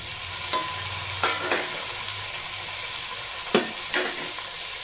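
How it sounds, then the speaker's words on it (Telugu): Tomatoes, two small and two large, fry in a pan for a curry, giving a soft steady sizzle with a few sharp stirring scrapes and clinks scattered throughout, fairly quiet and close, with no voices. "ఇప్పుడు టమాటీలు నేను ఒకటే చిన్నవి 2, పెద్దవి 2 వేసాను."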